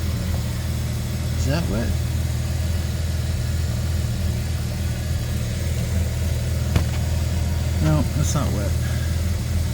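A 2003 Porsche Boxster engine idles with a steady low rumble throughout, close and constant, while people talk briefly over it.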